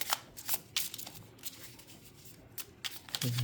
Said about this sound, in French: Alors, je vais tirer une petite carte pour voir s'il y a un message